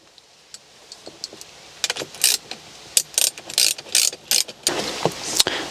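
A ratchet wrench tightens a battery cable nut on a breaker terminal while a 6000 W power inverter is installed, starting with a few sparse clicks, then fast loud bursts of ratcheting, close up.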